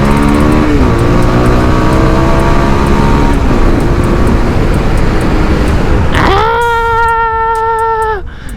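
Bajaj Pulsar 220 motorcycle ridden through traffic, loud close engine drone with road noise, shifting pitch, then a sharp high rev near the end that holds and fades.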